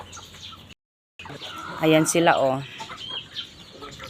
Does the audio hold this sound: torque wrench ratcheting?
no